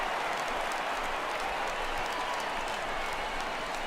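A stadium crowd in the MLB The Show 16 baseball game swells with a steady, broad roar of cheering and oohing after a fly ball, sustained and fairly loud throughout with no clear talk over it.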